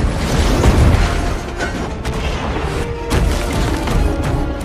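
A spaceship explodes in a science-fiction film about humanity under attack by AI robots, with deep rumbling booms, crashing and clattering debris falling, and bursts recurring loudly across the scene.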